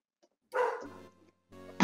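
A small dog barks twice in the Phoenix Wright: Ace Attorney video game, short clear yaps separated by a brief pause in otherwise quiet surroundings.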